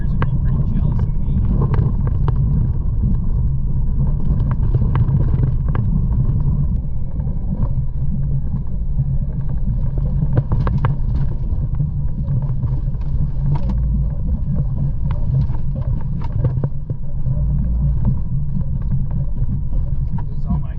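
Steady low engine rumble from a vehicle driving a rough dirt trail on the Oregon Trail, loaded with camping gear, with faint wind and occasional bumps and rattles throughout, and a voice talking intermittently over it.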